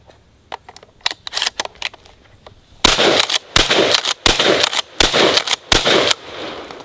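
Remington 870 pump shotgun firing on a muddy torture test, loud sharp blasts with broadband bursts in a rapid series, preceded by lighter clicks and clacks of the action being worked.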